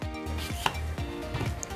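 A knife chops through a peeled Asian pear on a cutting board, with several sharp, close knocks in a steady rhythm and no talking.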